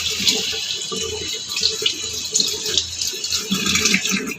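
Tap water runs steadily and splashes while a pot cover is washed after draining rice, a close, continuous rushing with irregular sloshing bursts.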